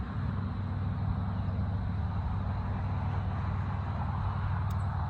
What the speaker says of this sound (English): It's so loud for me when a truck passes by.